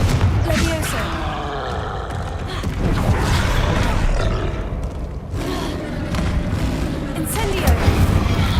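A troll in Hogwarts Legacy roaring during a fight, with deep growls and heavy booms mixed among loud spell effects, and a voice speaking at times over the combat.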